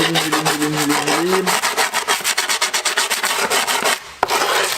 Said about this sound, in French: je lime directement. On fait bien vers l'extérieur